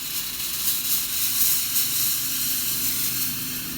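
A steam iron fitted with a water filter that reduces limescale releases a burst of steam, a steady broad hiss that swells slightly and holds continuously for several seconds, fairly close and alone.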